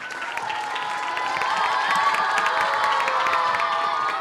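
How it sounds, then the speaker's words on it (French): A children's audience claps and shouts with joy, a steady wash of cheering and applause that swells slightly and holds loud throughout. "On applaudit en poussant des cris de joie."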